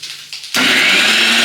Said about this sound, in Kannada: ಇದಕ್ಕೆ ಒಂದು ಸ್ವಲ್ಪ ನೀರು ಹಾಕಿ ಮಿಕ್ಸಿ ಮಾಡಬೇಕು.